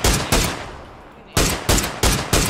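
Loud bursts of rapid gunfire in PUBG: a short volley, a brief lull, then four more close, punchy bursts in quick succession.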